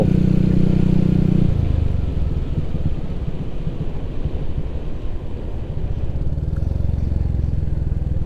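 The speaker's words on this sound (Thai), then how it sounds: "น้ำมันหนาทำให้เสียงท่อนเป็นแบบ บุบบับบุบบับบุบบับอะเสียงท่อ" A Honda Wave 125 motorcycle engine and exhaust drone steadily and close up while riding, a low continuous rumble with a louder, heavier stretch at the start before settling into an even run.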